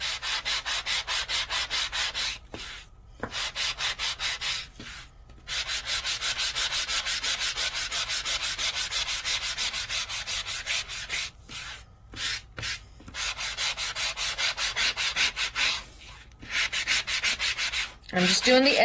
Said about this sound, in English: So it takes a little bit longer to sand it